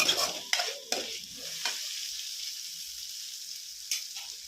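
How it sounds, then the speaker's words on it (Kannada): Ginger garlic paste sizzles in a pan while being stirred for a pepper paneer fry. A few close spoon scrapes come at the start, then a steady frying hiss continues alone. "ಈಗ ಇದನ್ನು ಚೆನ್ನಾಗಿ ಮಿಕ್ಸ್ ಮಾಡ್ಕೊಳ್ಳೋಣ."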